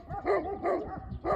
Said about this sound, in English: Lots of dogs barking.